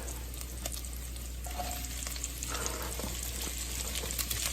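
Squash and onions frying in seasoned oil, a steady close crackling sizzle over a low constant hum, with a few faint clinks from stirring.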